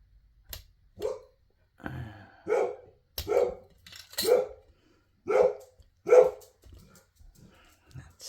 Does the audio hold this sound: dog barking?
yes